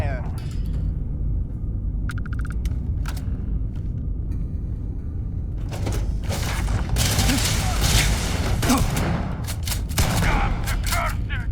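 Gunfire in the video game Starfield: a rolling fusillade of rapid shots and booms over a constant low rumble, sparse at first and then building into dense, sustained bursts.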